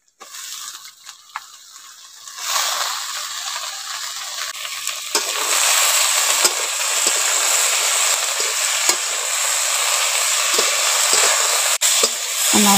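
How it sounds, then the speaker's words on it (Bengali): Thin-sliced potatoes frying with onions in hot oil, a loud, dense hiss that swells after a quieter start and holds steady, with occasional stirring knocks, close up and with no speech. "আলুগুলো পেঁয়াজের সঙ্গে একটু ভেজে নেব।"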